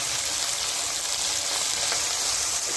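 Ginger garlic paste with spices fries in a pan for a bell pepper keema dish, giving a steady, close hiss and sizzle that runs unbroken with no talk over it.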